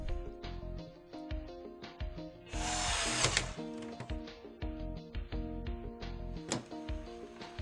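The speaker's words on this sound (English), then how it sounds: "Turn the unit over and insert the first screw on top." A screw being driven into a PlayStation 2 console during reassembly, with close mechanical whirring and clicking bursts, one louder sustained driving burst in the middle, and no talking.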